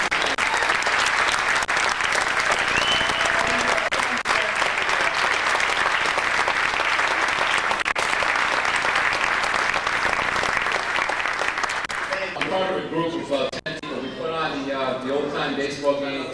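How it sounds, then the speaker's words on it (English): An audience at a youth sports volunteer recognition event gives a long, steady round of applause for student athletes, loud throughout, before a speaker starts talking near the end. "Big round of applause for the students."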